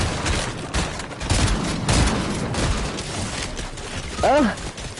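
Bursts of rapid gunfire in Fortnite rattle through the clip at moderate loudness, with a player's voice heard briefly near the end.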